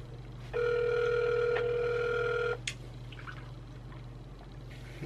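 A telephone ringback tone sounds on an unanswered call: one sustained steady electronic ring lasting about two seconds, fairly loud over a low background hum, followed by quiet.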